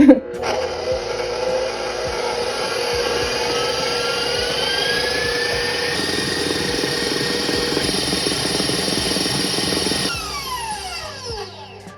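An electric mixer whips meringue for mini stonefruit pavlovas at high speed, giving a steady, loud motor whine with a rising pitch that holds for several seconds before winding down at the end.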